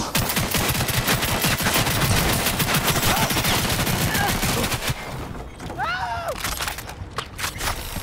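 Rapid automatic gunfire from a firefight in the video game Cyberpunk 2077 Phantom Liberty, dense bursts crackling for several seconds, then thinning out as brief whooshing and swooping effects take over.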